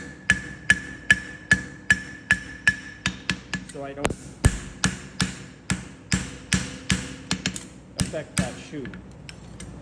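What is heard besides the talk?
hammer striking horseshoe on anvil horn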